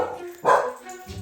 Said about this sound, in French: Le petit chien.